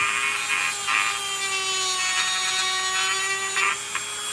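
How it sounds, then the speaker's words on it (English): A Dremel rotary tool whines steadily and close while trimming between rubber trim and a BodyArmor 4x4 HiLine front bumper on a 2024 Subaru Crosstrek, pitch wavering slightly as it bites in. "So yeah, take your Dremel, just go between the rubber and that, clean it up."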